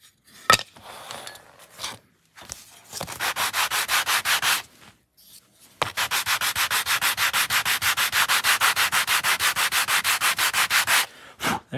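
A miniature wood table part is deburred by hand sanding: a few scattered rubs and taps, then two runs of fast, rhythmic back-and-forth strokes, close and crisp.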